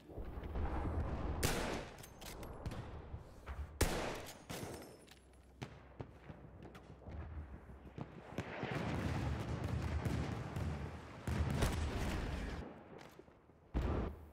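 Gunfire in a WW1 first-person shooter game, with dense overlapping shots and explosive bursts rolling through a loud battle scene, some sharp cracks standing out against a constant din of combat.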